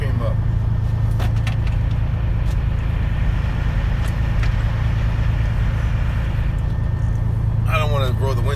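Truck engine idling inside the cab of an oil field haul truck, a steady low rumble running throughout at close range, with brief clicks and a short burst of talk near the end.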